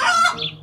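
A chicken's short clucking call, close and fairly loud, sounding alone for under a second.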